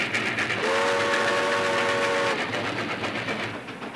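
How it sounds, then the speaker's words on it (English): A train rumbles past the old Pittsburgh depot with a steady roar, and a horn sounds one long sustained blast over the rolling wheels before the noise gradually fades. "come down here to the old Pittsburgh depot and just watch the trains go by"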